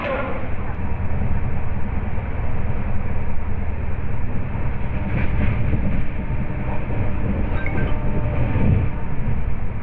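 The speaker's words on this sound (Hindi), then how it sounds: "कुछ समय से डिपार्चर होते हुए हमारी Siddhbali junction Janshatabdi express from Ghaziabad" The Siddhabali Jan Shatabdi Express departing Ghaziabad, a loud continuous rumble and roar of the moving train heard from on board, steady throughout with faint rattles.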